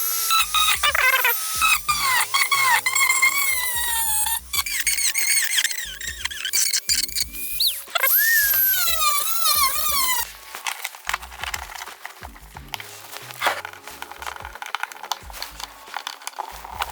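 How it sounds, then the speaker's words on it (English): A Dremel rotary tool pokes holes around a plastic black box for a kayak upgrade, giving repeated shrill, squealing bursts of high-speed grinding broken by short pauses, close up with no speech. "I'm going to use a Dremel and just go really slowly, poking holes all the way around"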